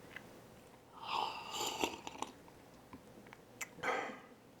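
Someone tasting freshly brewed coffee: soft slurps and sips close up, a couple of airy swallowing sounds spread over a few seconds, quiet with no talking.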